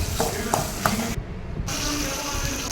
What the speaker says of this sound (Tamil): இப்போ நறுக்கி வச்ச தக்காளியை சேர்த்து வதக்கிக்கலாம்.